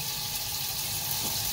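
Tap water runs steadily from a faucet, warming up for mixing pizza dough from scratch; a loud, continuous rushing hiss that stays close and unbroken.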